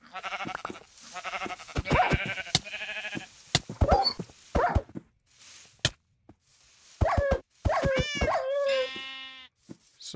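Minecraft animals at close range: a dog barking in sharp, clipped bursts mixed with repeated sheep bleats and wavering calls, irregularly spaced and fairly loud, with no talk.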